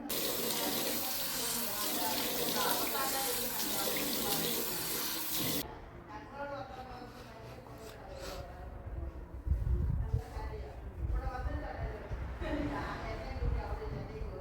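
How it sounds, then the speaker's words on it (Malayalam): Running tap water splashing into a sink during face washing, a steady loud gush that cuts off partway, followed by quieter dripping and handling sounds. "ഫേസ് ഒന്ന് വാഷ് ചെയ്യവേ."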